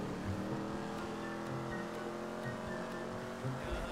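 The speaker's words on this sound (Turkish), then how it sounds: "Abi resmen ötüyor araba." Modified car engine roaring in GTA 5 gameplay, a continuous loud revving drone with occasional bursts, steady throughout with no talk over it.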